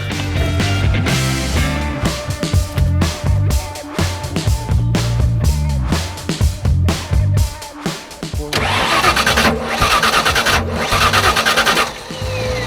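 A heavily rusted Ford Bronco engine, fitted with new spark plugs and with its ignition timing set too early, cranks and runs roughly up close, giving a loud, uneven, pulsing chug with stumbles and surges.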